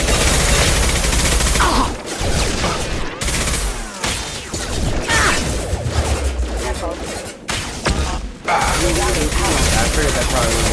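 Sustained gunfire in the Mass Effect 2 video game, loud and dense across the whole stretch, with brief lulls between bursts and faint voices mixed under the shooting.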